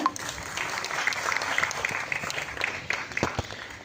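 A crowd at a Tamil film audio launch for the IPL movie breaks into loud, sustained applause, dense clapping with occasional sharper claps and cheers, rising and falling over a few seconds.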